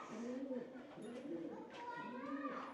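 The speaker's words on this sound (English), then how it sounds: "And I can see a pigeon flying around." A pigeon coos inside a dark Khmer temple at Phnom Rung, making soft repeated rolling calls close by, faint and echoing, while a voice speaks quietly.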